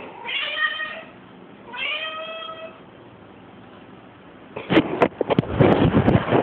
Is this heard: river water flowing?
no